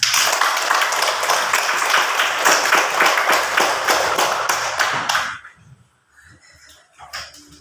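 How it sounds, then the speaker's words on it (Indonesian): Classroom applause from students cheering a small group after a lesson on coloring and cutting bread, a dense burst of clapping for about five seconds that stops abruptly, followed by near silence and a few faint sounds. "Mari kita beri aplaus."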